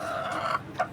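Hens in a terrace coop giving a couple of short, nearby clucks over a soft steady background.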